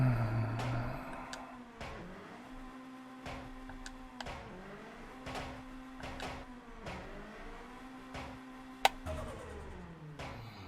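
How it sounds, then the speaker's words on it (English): Honda Civic time attack car accelerating hard through the gears, engine rising in pitch again and again with sharp breaks at each shift, about six climbing pulls, loud and close with clicks and ticks between them. "let's run her through some gears."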